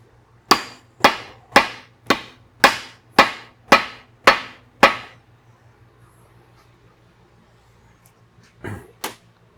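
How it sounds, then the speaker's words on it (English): Nine sharp mallet knocks in a steady rhythm against the crankshaft of a Toyota 2JZ engine block, loud and close, followed by a quiet pause and two fainter knocks near the end. "I'm going to get a mallet and knock the crank back and forth in the block."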